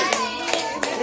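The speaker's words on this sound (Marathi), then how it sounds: "टाळ्या वाजवा टाळ्या वाजवा" Three sharp hand claps at a child's third birthday celebration, spaced roughly evenly over a second, heard close over a sustained background tone with some voice-like sound.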